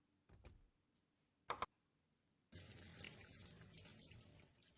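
Tap water runs into a pot in the Deponia video game, a steady faint stream starting after two brief clicks and a sharp clatter.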